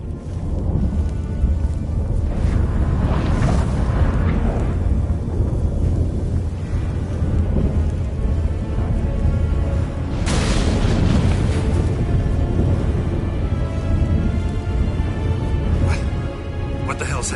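Deep booming thunder rolls through a storm in The Witcher 3, two heavy surges rising over a constant roar of wind and rain, with voices talking throughout.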